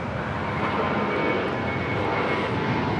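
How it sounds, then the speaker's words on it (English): A JetBlue Airbus A321 jet takes off at LAX, its engines making a continuous loud broadband roar that stays steady throughout, heard at a distance with no voices. "This is JetBlue 1874 taking off to Newark on the A321."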